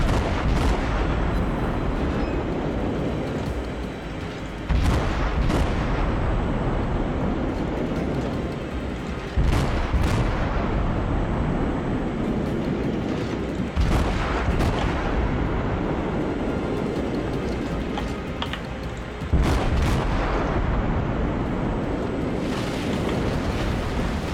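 Naval artillery in World of Warships booms in heavy, loud salvos every few seconds, each deep blast trailing into rumbling explosions over a constant roar of sea and wind.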